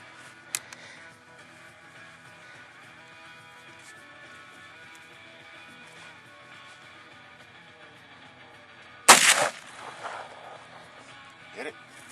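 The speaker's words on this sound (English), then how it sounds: "We're going to fire this white piece of metal up on the hill." A Thompson Center Triumph .50 caliber inline muzzleloader fires once outdoors toward a hillside target, a single loud sharp blast with a short rumbling tail after a stretch of quiet background.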